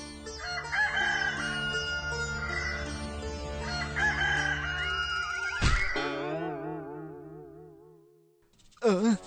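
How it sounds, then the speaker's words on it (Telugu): A rooster crows loudly in one long, drawn-out call over layered music, followed by a short clucking burst at the end. "తెల్లవారిపోయింది, కోడి కూసేసింది"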